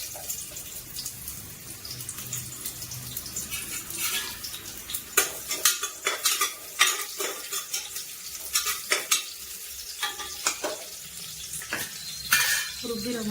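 Onions fry in hot sunflower oil for a soya pulao, with a steady sizzle under repeated clanking spoon strokes against the pan as they are stirred.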